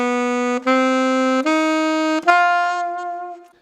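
An alto saxophone plays an ascending D blues scale, a few sustained notes stepping upward one after another, close and clear and played alone, with the last note fading out.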